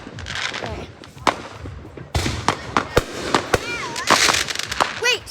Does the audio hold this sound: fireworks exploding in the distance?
yes